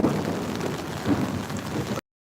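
Steady rain falls in Parque de El Poblado in Medellín, a dense, even wash of drops hitting surfaces nearby, with a low rumble swelling briefly midway and no voices.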